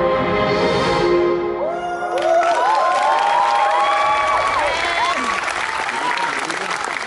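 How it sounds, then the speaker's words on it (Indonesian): Concert audience at an anniversary show applauding and cheering loudly, a dense continuous roar of clapping with shrill whoops and whistles rising over it. "boleh tepuk tangan sekali lagi"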